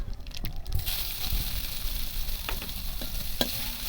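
Onions fry in hot oil with black cumin in a kadai as the base for a hilsa curry, making a loud, continuous sizzle with occasional stirring scrapes close by.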